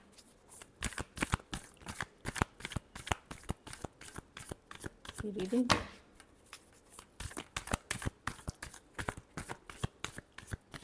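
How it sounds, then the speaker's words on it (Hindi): Tarot cards are shuffled for a reading, a close, quiet series of crisp riffling bursts in an irregular rhythm, with a brief fuller flutter midway and no talk. "reading last shuffle"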